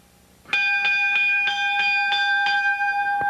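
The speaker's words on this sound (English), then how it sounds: "Bell signifying we have one participant in there, but not two." A wrestling ring bell at a Memphis wrestling show rings out in a rapid series of about eight bright metallic clangs, each leaving a lingering ring, loud and close with no talking.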